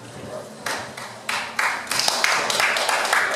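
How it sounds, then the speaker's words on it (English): Audience applause at a Lake Worth neighborhood candidate forum in South Palm Park, starting with a few isolated claps and swelling into steady, dense clapping from a room of people. "No applause, please."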